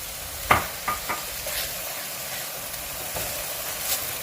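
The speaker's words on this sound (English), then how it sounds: "Go ahead and add your scallions in there." Scallions sizzle in oil in a pot still holding the juices from cooked shrimp, a steady moderate hiss with a few sharp clinks of a utensil against the pot near the start.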